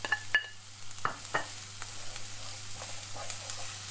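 Garlic sizzles alongside onions in a pan for a mince beef and onion pie, a steady quiet frying hiss broken by a few sharp stirring scrapes and clacks near the start.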